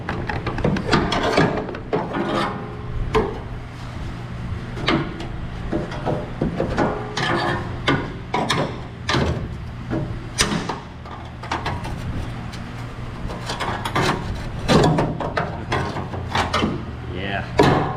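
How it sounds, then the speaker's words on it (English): Metal clanks and sharp knocks from prying a spot weld loose on the hinge pillar of a 1967 Chevelle, arriving in irregular bursts close by while a voice talks throughout. "I'm trying to pop loose one spot weld."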